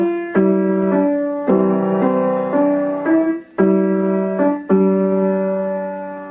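Piano playing Beethoven's Ode to Joy as a slow beginner's melody with simple chords: a run of clear, sustained notes struck one after another, each ringing briefly before the next, heard alone with no talking.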